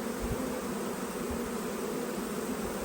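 A steady, continuous buzz of many bees close by, droning evenly with no pauses and no voices.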